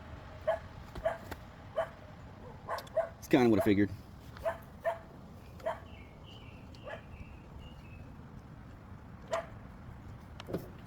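A small dog barks and yips repeatedly in short bursts, fairly close, with a brief whimpering cluster in the middle, while someone speaks briefly in a shed or yard.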